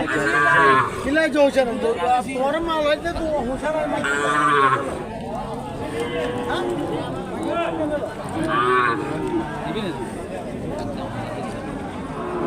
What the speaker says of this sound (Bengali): অল্প দুধের গুরু